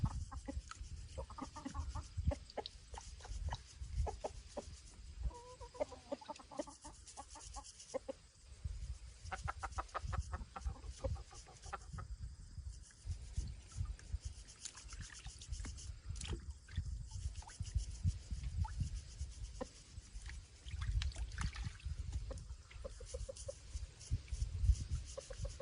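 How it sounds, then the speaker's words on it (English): Backyard farm chickens, including a gray bantam, cluck and murmur in scattered bursts for about 25 seconds, fairly soft and close, with no talking. "Hello, chickens."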